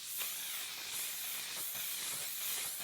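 Makeup setting spray, waterproof type, misted from a bottle in repeated hissy bursts, a close steady spray sound with slight pulses and no talking.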